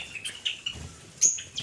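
A Java sparrow gives a few short, sharp chirps in quick bursts, close and fairly faint, with light rustling between calls and no voices.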